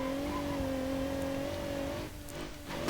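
A Bruckell LeGran Luxe Grandiose V6 station wagon hurls around a course in BeamNG.drive, its engine droning at a steady pitch that briefly dips as it lifts off, then climbs again.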